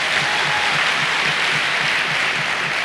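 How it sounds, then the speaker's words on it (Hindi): A seated audience at a Modicare business training session gives loud sustained applause, a thick continuous roar of clapping with a faint rhythmic thump underneath. "एक बार जोरदार ताली आप लोगों के लिए"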